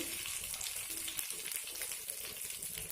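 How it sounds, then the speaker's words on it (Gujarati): A pinch of asafoetida hitting hot oil on a low flame, a dense close sizzle with crackling spatter, steady and alone for a few seconds. "ગેસ ધીમો રાખીશું ચપટી હિંગ નાખીશું"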